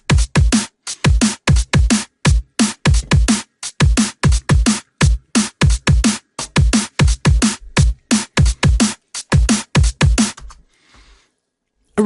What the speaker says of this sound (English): So I've got a really simple drum loop already laid down